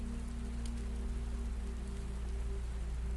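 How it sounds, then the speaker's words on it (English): Steady rain falls without pause in a dense, even hiss of drops against surfaces, with a low constant hum underneath and no voices. "The rain hasn't stopped."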